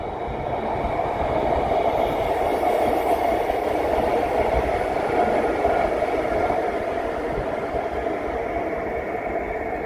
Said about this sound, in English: Here's another train.